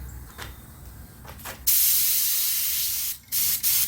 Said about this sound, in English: Spray a little over here.